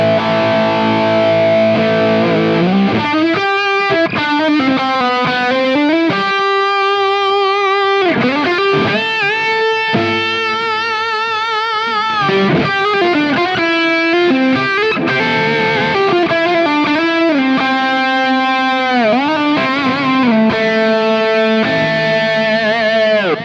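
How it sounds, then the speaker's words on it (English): Electric guitar played through an Origin Effects Revival Drive overdrive pushed by a Kelly 76 boost, a loud distorted lead with sustained bending notes and quick runs, alone without talk. "I add the Kelly 76 setup like this for kind of like a hip lead boost to really push the revival drive"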